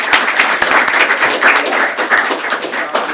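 An audience at a school board meeting gives honored students a loud round of applause, close and vigorous clapping with distinct sharp claps standing out through the short burst.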